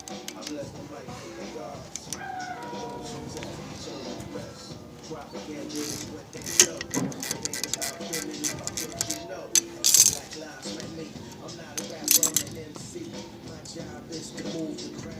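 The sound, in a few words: removing size 14 bolt from brake caliper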